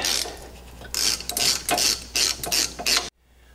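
A ratchet wrench tightens a nut on a Ford Mustang rear leaf spring, giving rapid bursts of clicking in quick strokes, close and fairly clear, with a brief pause before the final stroke and silence after.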